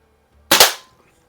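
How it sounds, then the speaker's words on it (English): A single sharp shot from an Apache Fireball .24 caliber multi-pump air pistol, tested after repair, fired at a can, with a close, loud crack and an immediate metallic hit that decays quickly into silence. "we're just going to shoot at a can here"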